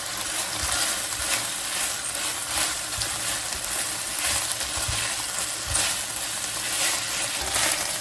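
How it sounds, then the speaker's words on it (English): Beef and chopped garlic stir-frying in a hot pan for a take-out style beef and broccoli, a steady close sizzle with rhythmic spatula scrapes and stirring clatter throughout. "Add the rest of chopped garlic and stir fry for 1 minute."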